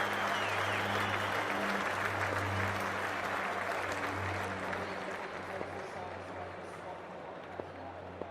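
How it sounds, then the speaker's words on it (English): Stadium crowd in the Cricket 24 video game, an IPL match between Punjab Kings and Rajasthan Royals, keeps up a dense, steady roar of clapping and cheering that fades slightly toward the end. "already the crowd is up and about"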